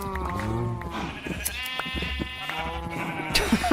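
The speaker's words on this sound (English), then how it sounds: "we should shear all the sheep while we're in here." Several sheep bleat in a video game, with repeated wavering calls overlapping one another at close range, some louder and some fainter, over a low background hum.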